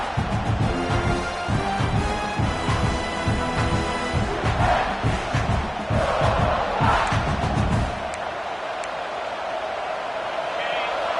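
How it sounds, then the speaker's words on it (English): A college football stadium crowd at a Miami vs Virginia Tech game roars and yells loudly and steadily, swelling as the opposing offense is pinned deep, with a broadcaster talking over the noise before the roar eases near the end. "this crowd trying to help keep them there"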